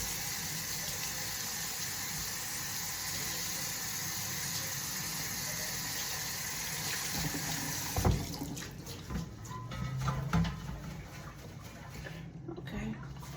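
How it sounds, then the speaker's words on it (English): Tap water runs steadily into a sink as leeks are rinsed, a constant broad rush for the first eight seconds that then breaks into splashier, uneven bursts and clatter as the leeks are handled. "I take my leeks. I want to rinse these."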